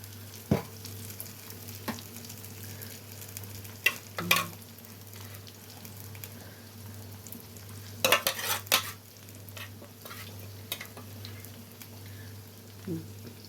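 Masala chicken fries in a pan with a steady low sizzle, broken by several sharp scrapes and clatters as the pieces are stirred and turned.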